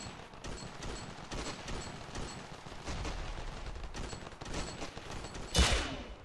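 Gunfire in the video game Ravenfield, a battle for a coastline: a dense spread of rapid shots and bursts, some near and some distant, building to one loud sharp blast near the end.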